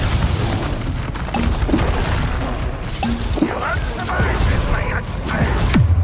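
Fire spell effects in Hogwarts Legacy, with dense rumbling booms and crackling blasts running throughout, mixed with game sounds and voices speaking over them.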